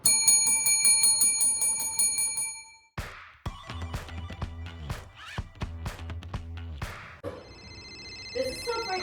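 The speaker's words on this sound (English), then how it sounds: "it's the Booty Bell." A bell rings with bright, sustained metallic tones, followed by a rapid series of repeated chime strikes in a rhythmic, tinkling pattern, then more ringing at the end.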